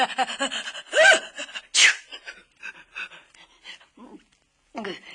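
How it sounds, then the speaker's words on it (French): A theatrical sneeze performed by a reader telling a French children's story about the Seven Dwarfs, with breathy build-up gasps followed by a sharp burst, then quieter vocal sounds and pauses. "Il éternua si fort qu'il en perdit ses souliers"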